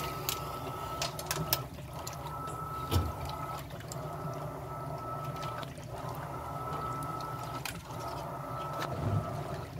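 Electrolux LPR17 washing machine filling with water, a steady hiss and rush of running water with a low pump-like hum, continuous and fairly quiet throughout, no talking.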